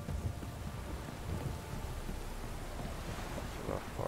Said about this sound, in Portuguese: De noite, trovejando.